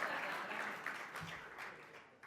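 A business audience at a presentation in a large stadium venue applauds, a soft, fairly distant patter of many hands that fades out over a couple of seconds.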